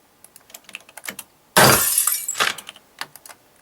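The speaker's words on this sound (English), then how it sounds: "And then there is the bullet coming and hitting on that surface." Film sound effect of a bullet striking a surface: a sudden loud broadband impact with a sharp crack and short low rumble, set among small clicks and ticks, followed by a second smaller hit.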